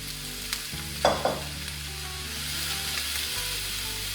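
Onions are tipped into a hot pan of olive oil, with a couple of sharp clattering hits as they land, then a steady close sizzle and hiss that carries on under a low hum; no voices.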